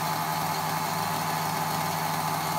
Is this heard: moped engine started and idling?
yes